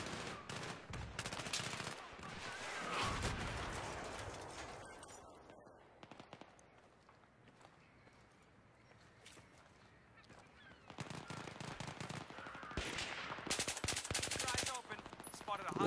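Automatic weapon fire in the video game Battlefield 3, loud sustained bursts at the start, a quieter stretch with scattered shots mid-clip, then heavy rapid firing returning toward the end.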